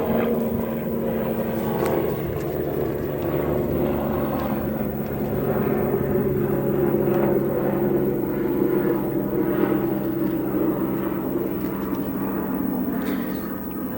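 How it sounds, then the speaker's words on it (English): A helicopter passes overhead, heard as a steady droning rotor rumble with a faint rhythmic chop that swells slightly in the middle and then eases, with no one talking. "wait for that helicopter to go by"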